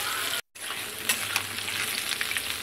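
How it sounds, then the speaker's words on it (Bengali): Cumin seeds and bay leaves sizzle as they are tempered in hot oil: a bright, steady crackle close by, with one brief gap. "এইদিকে আবার তেলের ওপরে জিরে তেজপাতা ফোড়ন দিলাম।"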